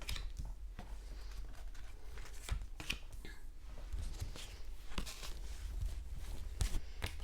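Tarot cards being handled and laid out make soft, close shuffling slaps and brisk sliding taps in irregular bursts, fairly quiet, with no talking.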